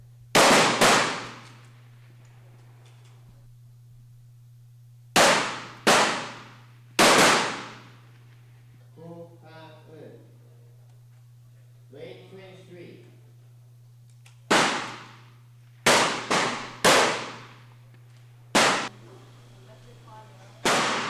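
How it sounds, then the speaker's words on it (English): Sharp gunshots ring out at a precision shooting competition, single loud reports spaced irregularly with some in quick pairs, separated by a steady low hum and faint speech in the pauses. "The first shots are fired."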